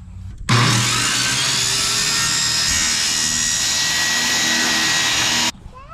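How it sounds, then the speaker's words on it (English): A powered cutting tool trimming a plastic sheet to size for a cold frame planter, a loud, steady buzzing whine that starts abruptly, holds for about five seconds and cuts off sharply. "now you're going to get your piece of plastic and you're going to trim it up to the correct size"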